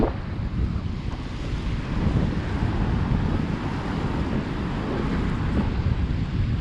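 Strong wind buffets the microphone on the rocky north shore of Oahu, a steady, loud roar with surf mixed in, continuous throughout with no voices.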